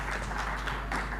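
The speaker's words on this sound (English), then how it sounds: "Please, a round of applause for Dr." Applause from an audience for a speaker at an academic event on elections and governance: dense, steady clapping with no pauses, a brief burst.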